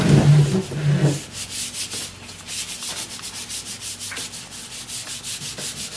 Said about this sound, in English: Easy sanding.